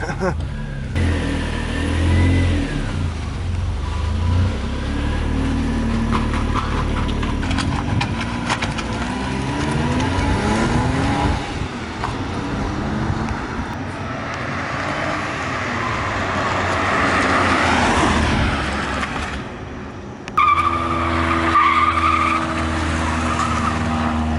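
A modified Suzuki car, likely the Cappuccino with a welded differential, revving hard and sliding on a dirt lot, with engine roar rising and falling and tires scrabbling, while people talk over it throughout.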